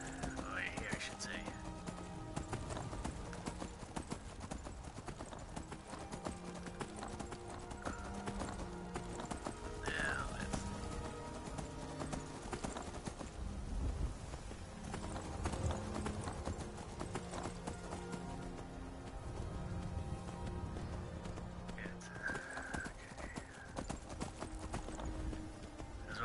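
Horse hooves clip-clop in Skyrim, a steady trotting rhythm that runs under game music and occasional whinnies, with people talking over it now and then.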